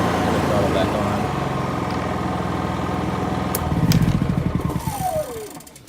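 A portable generator engine runs in a detailing van with a steady droning hum and harmonic tones, then the sound winds down and fades to near silence as it is shut off, with someone talking over it.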